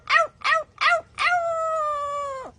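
A talking pet bird imitates a dog howling: three short yelping barks, then one long, steady, close howl that drops off at the end.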